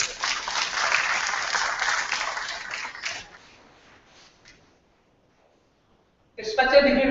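Conference audience applause at an international multi-track science and engineering conference: a crowd clapping for about three seconds that fades into near silence, after which a voice begins speaking abruptly near the end.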